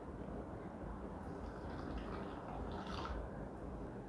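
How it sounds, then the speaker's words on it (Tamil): Hot water being poured onto sugar for burfi, a steady close liquid stream that runs without a break, with no talking over it. "ஒரு 1/2 கப் கிட்ட தண்ணி விட்டுருக்கேன். நான் வெந்நீர் விட்டுருக்கேன்."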